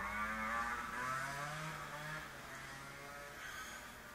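Motorbike engines droning past at moderate distance, a steady mechanical whine that shifts in pitch and slowly fades.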